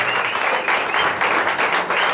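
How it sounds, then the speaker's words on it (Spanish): Loud, steady applause from a crowd right after a ribbon is cut to reopen a gym, dense clapping that carries on without a break. "el aplauso bien fuerte"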